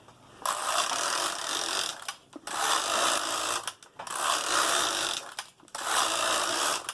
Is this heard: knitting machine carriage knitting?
yes